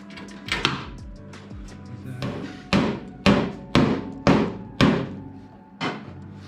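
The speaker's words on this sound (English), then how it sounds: "Just whacking that a bit to push it out because it's going in a bit" Sharp metallic hammer blows strike the body panel of a rusty MGB roadster V8 to push out a dent, roughly eight close, loud strikes in an uneven rhythm with short pauses between them.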